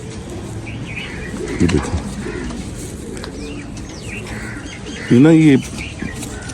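Sialkoti pigeons in a rooftop loft give a few low throaty coos, one loud and close near the end, with a brief flutter of wings and someone talking over them.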